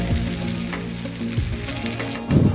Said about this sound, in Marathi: बारीक गॅस करून त्याच्यावर चांगली दमावर होऊन द्यायची भेंडी